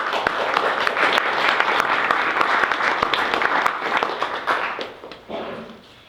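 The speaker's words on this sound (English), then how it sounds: "You guys are very kind for clapping after the poems." An audience at a poetry reading in a bookstore breaks into warm, close applause that holds steady for several seconds, then thins and tapers off near the end.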